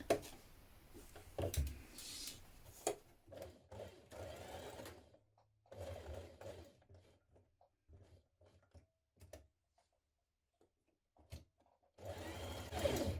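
A sewing machine stitches around the armhole of a Style Arc Norman jumpsuit in short close bursts, with quiet pauses and small handling noises between runs.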